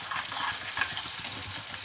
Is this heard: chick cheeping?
no